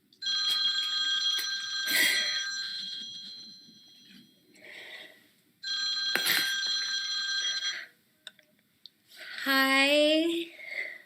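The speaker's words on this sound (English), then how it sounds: "and the phone instantly rings" A landline telephone rings in two long bursts of trilling bell tones separated by a pause, loud and close in an otherwise quiet room, followed by a brief voice.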